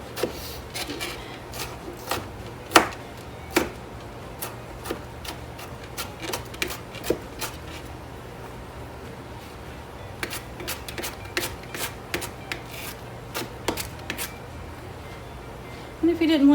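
Knife dicing bell pepper on a cutting board, with a run of sharp, irregular chops and taps spread across the stretch over a low steady background hum.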